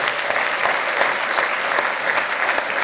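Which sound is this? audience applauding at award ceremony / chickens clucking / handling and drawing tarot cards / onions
audience applauding at award ceremony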